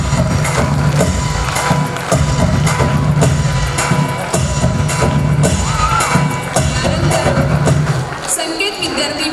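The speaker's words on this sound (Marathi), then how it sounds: "जोरदार टाळ्यांचा आवाज आला पाहिजे प्रेक्षकांकडून" An audience applauds loudly and steadily at a primary school's annual gathering and prize-giving in Manpada, Thane, with a dense crowd texture carrying through and easing near the end.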